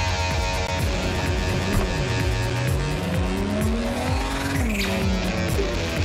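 A car in the video game Cyberpunk 2077 revs and skids, its engine whining up and down under long tire squeals, loud and continuous with no speech.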